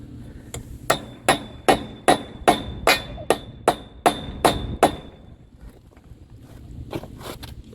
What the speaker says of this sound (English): I got my eye bolts knocked in with a hammer.